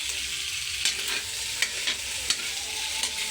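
Food sautéing in a hot pan gives a steady sizzle with periodic scraping stirs, close and continuous with no voices.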